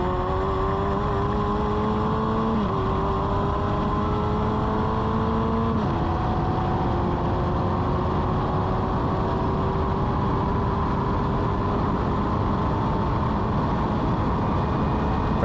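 A Formula Ford race car on a circuit, its engine droning loud and close as it runs down the back straight, the pitch dropping in steps with downshifts under hard braking.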